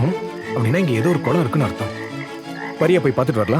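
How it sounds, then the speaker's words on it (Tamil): Frogs croak somewhere nearby in a repeated, throaty, rhythmic chorus heard clearly under a person speaking in Tamil. "பக்கத்துல எங்கேயோ தவளை கத்துற சத்தம் கேக்குது."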